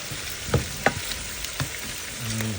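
Chicken with beans and bell peppers is stirred in a pan, making a continuous sizzle with a handful of sharp spoon clicks and scrapes, close by and with no voices.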